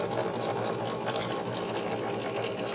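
A sewing machine runs in one fast, steady, continuous burst, stitching a fabric Christmas ornament with white thread, the rapid needle chatter close and even throughout.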